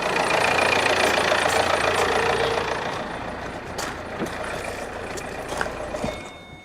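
A diesel engine idles with a steady, knocking clatter, loud at first and then slightly quieter, with a few short clicks near the end.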